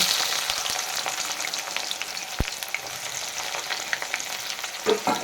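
Chopped onion with dried red chillies, cardamom, cinnamon and cloves fries in a pan for a goat meat curry, a close, steady crackling sizzle punctuated by scraping stirs and a sharp knock of a spoon.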